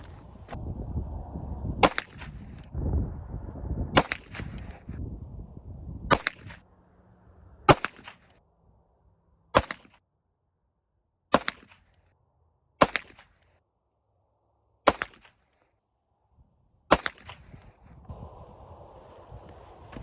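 A CZ P10 pistol fires 3-shot groups at an outdoor range, giving about nine sharp distant-sounding reports spaced roughly one to two seconds apart, with wind noise at the start.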